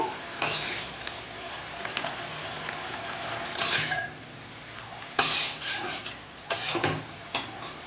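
A spoon scraping and stirring chikni spinach curry with Kashmiri chili powder in a pan, intermittent rubbing and scraping strokes close up, with quiet pauses between.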